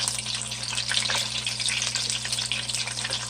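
Chicken pieces frying in hot oil after a water bath, a steady dense sizzle with small bubbling crackles, close and continuous without pops or voices.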